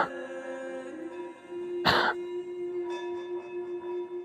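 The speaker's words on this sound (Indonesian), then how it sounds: "dia dengar suara orang lagi batuk" A person gives a single rough cough amid eerie sustained tones in a horror story set in a village, with the ringing drone continuing faintly after the cough.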